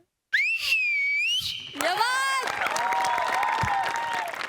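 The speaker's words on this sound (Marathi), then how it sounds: "जोरदार टाळ्या" An audience reacts after a stage performance, first with piercing wavering whistles, then with sustained clapping and cheering that carry on at a steady level to the end, together with further whistles.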